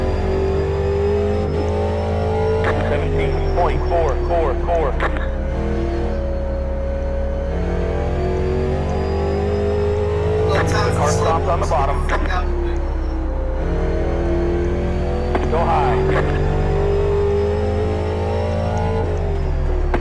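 A steady, droning race-car engine note runs throughout an iRacing rookie-class race, rising and falling with gear changes and mixed with nearby cars, while a spotter's voice calls out positions over it.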